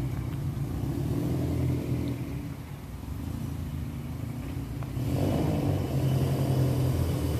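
A Subaru WRX with a manual transmission drives past, its engine rumbling and revving as it swells and fades, heard alone without talk.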